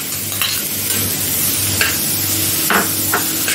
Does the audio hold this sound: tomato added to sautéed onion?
yes